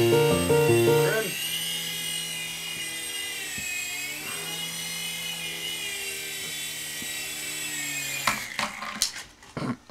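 A small RC mini helicopter hovers with a high, whining rotor buzz that holds steady, then dips and wavers as it sets down, ending in a few clattering bumps of the landing.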